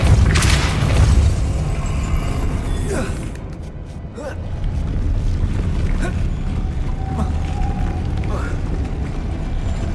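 A Depulso spell is cast in the video game Hogwarts Legacy: a deep booming burst with rumbling impact, followed by a second blast, creaking mechanical sounds and lingering low rumble.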